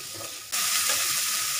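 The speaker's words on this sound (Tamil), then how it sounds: "வெங்காயம் நல்லா வதங்கட்டும்." Onions sautéing in a pan for a ragi semiya dish: a steady, loud broadband sizzle that jumps sharply in volume partway through and then holds constant with no talking.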